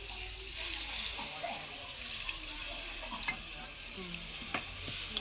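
Water is poured into a pot of chicken feet curry cooking on the stove, a hissing sizzle and splash that settles into steady bubbling, with a voice speaking faintly in the background.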